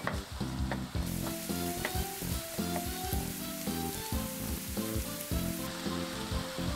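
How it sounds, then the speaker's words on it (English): Shepherd's pie filling with grated garlic sizzles steadily in a pan while a spoon scrapes and stirs through it in irregular strokes. The sound is close and continuous and no one speaks. "stir well"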